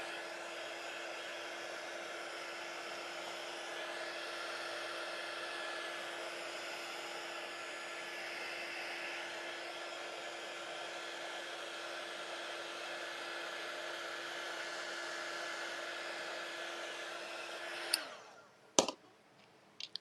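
A hair dryer blows steadily on a craft project for about eighteen seconds, a loud continuous whirring drone that then cuts off, followed by a few brief clicks and knocks.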